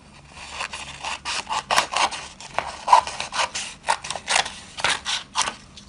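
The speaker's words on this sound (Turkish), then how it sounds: "Sonra bu kısmını kesiyorum." Scissors cut through folded paper for a Mother's Day door decoration craft, a quick run of close, rhythmic crisp snipping and rasping strokes.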